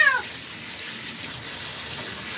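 Steady running water streams over a cat being rinsed during a double cat grooming session, a continuous broadband wash with a brief cat cry at the very start.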